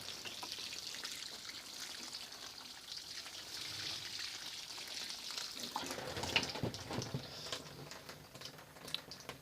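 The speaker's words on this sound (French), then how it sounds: "Donc je vais y arroser un coup." Water splashes and patters onto plants in a small, shallow garden mound, rising in the second half into a steady, close pour.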